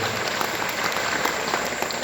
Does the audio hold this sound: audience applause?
yes